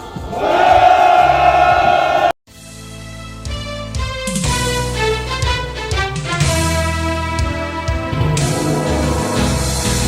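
A crowd of shipbuilding workers at a labor union rally lets out a loud collective shout, which breaks off abruptly and gives way to loud amplified music with singing.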